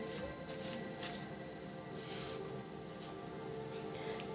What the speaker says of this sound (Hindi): इतने छोटे कार्ड्स है ना, शफल ही नहीं हो पाते.